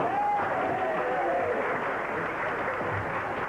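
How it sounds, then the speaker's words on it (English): A crowd applauds a sniffer dog that has found a suitcase, a steady wash of clapping heard from a distance with a faint whistle-like tone early on, loud and continuous throughout. "He found the case to applause."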